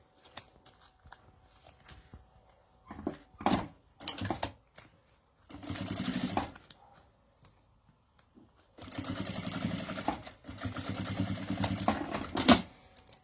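A sewing machine stitches bias binding onto a men's document holder in two quick bursts, then longer runs of steady rattling, separated by quiet pauses and small handling noises.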